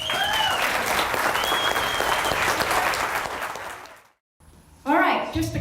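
An audience at a political forum in Superior, Montana applauds in a dense, sustained burst that fades out over several seconds, followed after a brief gap by someone speaking.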